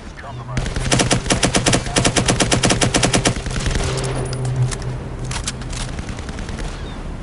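Rapid automatic gunfire in the video game Firewall rattles in a dense, loud burst for about three seconds, then tapers into scattered quieter shots and echoing tails.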